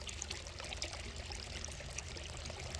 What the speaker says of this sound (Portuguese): E a água, ela está circulando